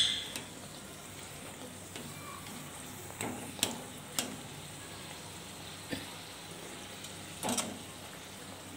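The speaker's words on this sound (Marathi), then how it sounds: "तर आपल्याला फुल गॅसवरच या पुऱ्या आहेत त्या तळून घ्यायच्या आहे" Methi puris deep-frying in oil over a high flame, a quiet, steady bubbling hiss broken by occasional sharp ticks and pops, close and soft with no talk.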